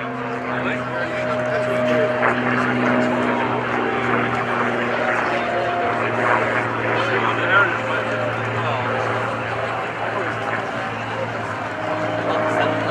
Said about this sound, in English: With the Mustang high overhead right now